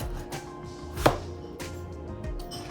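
A knife chops through plum tomatoes on a cutting board for Nigerian yam porridge, a few distinct close thuds spaced irregularly, with one louder strike.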